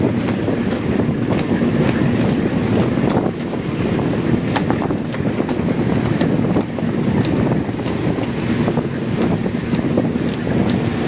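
Strong wind buffets a small fishing boat at sea, roaring and gusting continuously against the microphone over a low churn of engine and water, with no talk.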